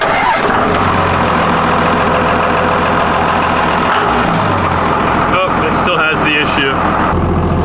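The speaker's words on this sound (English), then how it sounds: "So now I'm gonna try to start it and see if it still has our issue" A Cummins diesel engine cranks and catches, its loud mechanical roar filling the clip and wavering as it tries to settle, with a person talking over the running engine.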